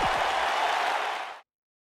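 Crowd applause in the WWE 2K19 wrestling video game after a one-on-one match: a steady, loud wash of clapping and cheering that stops abruptly after about a second and a half.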